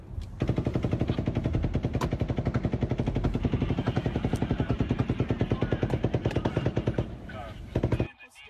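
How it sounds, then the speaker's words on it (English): Rapid automatic gunfire bursts from a gunman firing from a high hotel window onto a crowd near the Mandalay Bay in Las Vegas, a long continuous rattle of shots lasting several seconds before stopping abruptly. "fires a ninth burst of fire right over a line of cabs and into the crowd"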